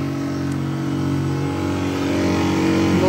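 A Talsa 15-litre bowl cutter runs at maximum speed with its knife head spinning, giving a loud, steady mechanical whir that swells slightly toward the end, with no voices.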